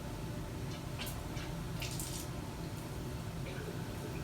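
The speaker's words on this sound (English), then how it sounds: "I like to go ahead and turn on the water right here, the bottom valve" Water runs from the bottom valve of a lab sink tap during metallography sample preparation: a steady, close hiss and splash that continues without a break, with a few brief drips or clicks on top.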